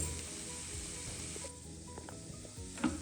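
Banana halwa with sugar is stirred in a pan over a medium flame, giving a soft, quiet sizzle with light scraping strokes and a small knock near the end.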